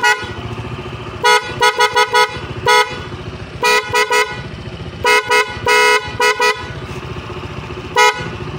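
Repeated short, bright honks from a Honda ADV 160 scooter horn over an idling engine, in quick bursts of two and three with gaps between.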